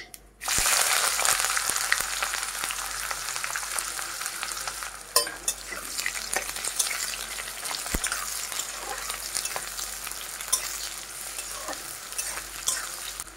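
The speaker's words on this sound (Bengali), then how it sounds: "পেঁয়াজটাকে বেশ লাল লাল করে ভেজে নিতে হবে" Chopped onions fry loudly in a pan with crushed cardamom, a dense crackling sizzle throughout, broken by frequent scraping stirs and occasional sharp clicks.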